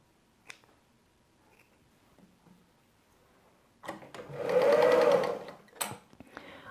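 A sewing machine stitches a patchwork seam partway along fabric for a Windspiel block in one close, steady run of about a second and a half, framed by quiet handling clicks and rustles.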